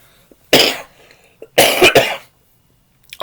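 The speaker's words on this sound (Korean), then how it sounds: "기침이 좀 있어서요" Two or three harsh, loud coughs in quick succession, close up, with no talking around them.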